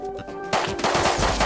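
Revolver gunfire in the video game Rust: a dense, loud burst of rapid shots starting halfway through after a quieter lead-in, with no talking.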